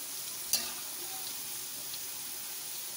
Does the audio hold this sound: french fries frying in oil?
yes